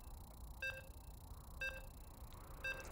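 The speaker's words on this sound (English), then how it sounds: "As you can hear the beeps, we're loading into Game 1" Three evenly spaced electronic beeps, about one second apart, sound as a StarCraft match loads, clear and tonal against a quiet low hum.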